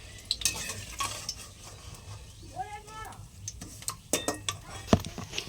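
Pua, sweet fritters, frying in a pan and being stirred: light sizzle with clattering utensil knocks and scrapes, and a brief rising-falling vocal or animal-like call partway through.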